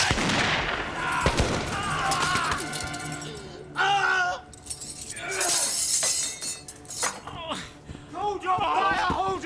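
Gunfire in a period shootout: sharp bangs and cracks burst out irregularly, mixed with shattering and clattering debris and shouted voices.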